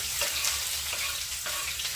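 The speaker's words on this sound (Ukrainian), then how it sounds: "Олія повинна отак аж кипіти." Onions sizzle and crackle steadily in very hot sunflower oil in a frying pan, with occasional louder spits and a brief clink of stirring.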